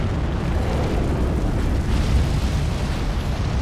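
A giant in the Elden Ring video game, in Leyndell, Royal Capital, breathes fire: a heavy, continuous low roaring rush like a blast of flame, loud and sustained throughout with no speech.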